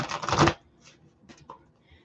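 A quick riffle of cards being shuffled, crisp and close for about half a second, followed by faint scattered clicks and low background murmur.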